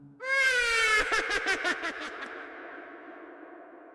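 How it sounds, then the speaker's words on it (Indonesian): A baby-like wailing cry rises sharply at night in a forest, a single drawn-out tonal wail with a few pulsing sobs that fades into echoing quiet. "Ada suara bayi menangis."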